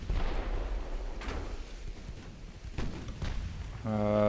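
Naval guns fire in Ultimate Admiral: Dreadnoughts, a warship game, with several deep, rumbling booms spaced over a few seconds amid low battle noise, and a tonal game sound at the end.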